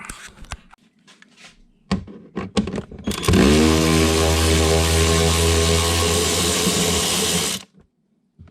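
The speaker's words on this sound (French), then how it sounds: "Donc on va dévisser là," A Torx screw on the brake light of a BMW 1250 RT top case is undone with a powered driver: a few handling clicks, then a loud, steady motor whine for about four seconds that cuts off sharply.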